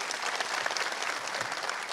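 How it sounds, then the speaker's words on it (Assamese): An audience claps for a dancer at a cultural gathering, a dense, steady wash of applause from many hands that holds evenly throughout. "কাৰিশ্মিতাৰ কাৰণে হাত চাপৰি বজাই দিব"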